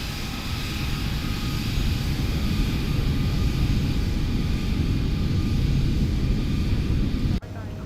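Steady, loud engine drone of the X-Craft Lineage jet in the X-Plane 12 flight simulator, a continuous broadband roar that holds level throughout with a brief dip near the end.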